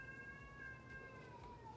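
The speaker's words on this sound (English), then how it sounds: "My cat's, that's my female cat." A female cat meows in a thin, drawn-out cry, quiet and somewhat distant, over a low background hum.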